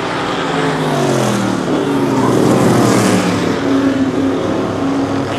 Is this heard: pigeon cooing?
no